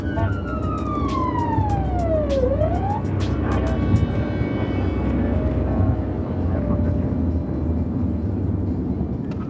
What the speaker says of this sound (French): déclenche la sirène